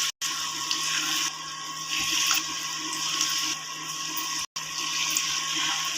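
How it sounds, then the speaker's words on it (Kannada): Coriander pakora batter dropped spoon by spoon into hot oil, frying with a steady, dense sizzle and hiss that runs nearly unbroken, with two brief gaps, and no talking. "ಈ ಸ್ವಲ್ಪ ಸ್ವಲ್ಪ ಹಿಟ್ಟನ್ನು ಎಣ್ಣೆಯಲ್ಲಿ ಬರ್ತಾ ಹೋಗಬೇಕು"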